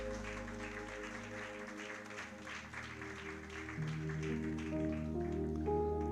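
Congregation applauding during a church sermon, steady clapping under sustained organ or keyboard music that swells toward the end.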